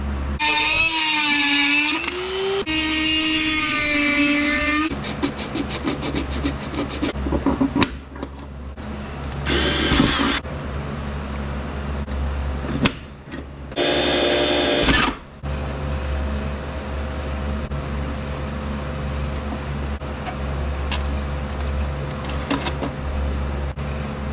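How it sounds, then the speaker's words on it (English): A Dremel rotary tool cuts off a part on a 1976 Chevy Luv with a 350, whining loud and close in several bursts of varying pitch, with shorter cutting spurts later over a steady low background hum. "I'm gonna go ahead and cut this one off. Might go ahead and use the Dremel again."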